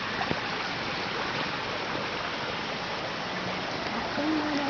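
Dhungin Lamatar waterfall near Kathmandu rushing as a steady, dense wash of water with no break, and a faint tone appearing near the end.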